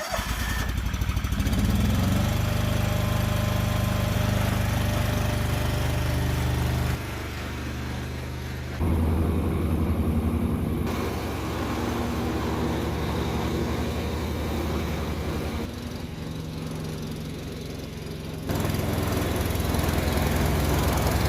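Walk-behind lawn mower with a new belt and new blade, running steadily while cutting grass outdoors, loud and continuous with slight dips in level as it moves back and forth.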